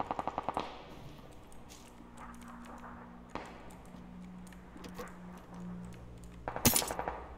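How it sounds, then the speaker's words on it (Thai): Gunfire in the PUBG battle royale game: a quick burst of several sharp shots opens, scattered quieter pops follow, and a louder cluster of shots lands near the end. "มึงมายิงกันจะบอกหรือวะ"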